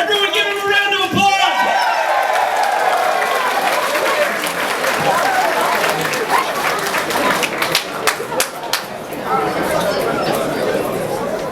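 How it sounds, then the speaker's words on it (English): An audience at a university speech event applauds loudly and continuously, with crowd chatter and a few whoops mixed into the clapping throughout. "Everyone give him a round of applause!"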